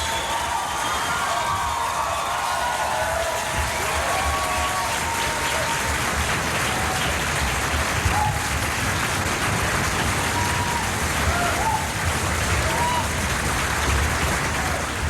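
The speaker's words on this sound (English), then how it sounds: "they are cheering their director and mentor, Joseph Flummerfelt, on this glorious occasion of his final concert" Westminster Symphonic Choir members cheer and applaud their director Joseph Flummerfelt at his final concert, a Beethoven Missa solemnis performance: dense, steady applause mixed with cheering that holds at full strength for the whole stretch.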